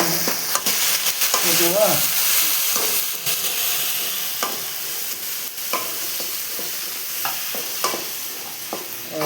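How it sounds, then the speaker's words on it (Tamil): Onions, green chilies and curry leaves sauté in oil with a continuous close sizzle, broken by repeated scrapes and knocks of stirring, while a voice says a word briefly. "அப்படியே நல்லா வதக்கிடணும்"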